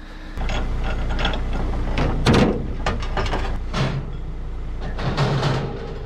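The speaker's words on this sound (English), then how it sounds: "What you gotta do, pop the ratchet strap?" A ratchet strap on a car trailer is worked and released, giving repeated loud metallic clicking and ratcheting with clunks and a sharp burst in the middle, over steady engine idle nearby.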